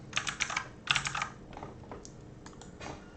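Quick, light keystrokes on a computer keyboard as a new password is typed, irregular bursts of close clicking taps with short pauses between them.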